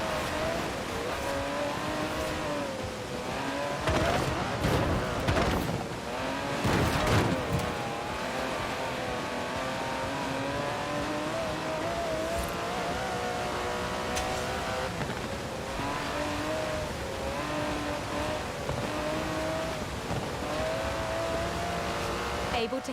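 Aston Martin DB11 5.2-litre twin-turbo V12 in Forza Horizon 4, revving and accelerating with rising and falling engine pitch and several sharp bursts, heard fairly close under a speaking voice.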